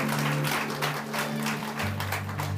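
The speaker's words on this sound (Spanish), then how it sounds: "Démosle un aplauso al Señor." A church congregation claps together in a broad, steady round of applause while sustained organ or keyboard tones hold underneath.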